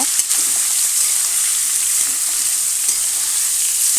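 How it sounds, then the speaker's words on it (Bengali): Finely chopped beetroot fries in a pan, a loud, close, continuous sizzle with faint scraping as it is stirred, and no talking. "এই যে আগে থেকে কেটে রেখেছিলাম বিট আলু কুচি কুচি করে তো সেগুলোই আমি দিয়ে দিচ্ছি দিয়ে ভালো করে নাড়িয়ে নেব"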